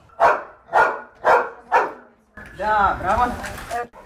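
A search and rescue dog in training barks four times at an even pace, loud and close. A person then speaks over faint background sound.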